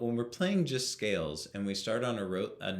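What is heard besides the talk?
None of the usual background noises is heard.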